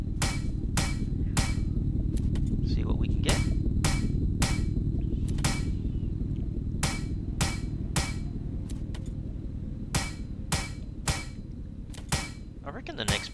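A hammer strikes metal car bodies in the survival game Plains of Pain: about fifteen sharp, loud clanking blows in an uneven rhythm over a steady low background, with brief talk.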